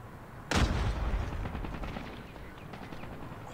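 Gunfire from a Fennec submachine gun in the mobile shooter Call of Duty Mobile, a sudden loud burst that gives way to a sustained rattling roar of rapid shots, with no voices.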